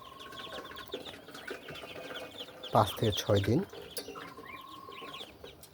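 Chinese ducklings five to six days old peep in rapid high chirps, joined by a brief loud burst of clucking mid-clip, while someone talks over the birds.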